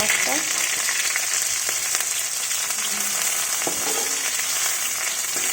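Fish frying in a pan at home, giving a steady, loud broadband sizzle throughout with a few faint clinks and brief soft voice traces underneath.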